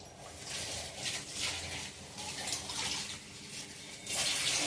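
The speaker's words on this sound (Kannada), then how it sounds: "ಅದಕ್ಕೆ ಬೇಕಾದಷ್ಟು ನೀರನ್ನು ಹಾಕಿ" Water pours into a pot of Mangalore-style country chicken curry, a soft gurgling splash rising and falling in short bursts, fairly quiet with no voices.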